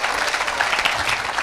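A church congregation applauds and acclaims, a dense, continuous roar of clapping and cheering voices with no gaps, loud and close.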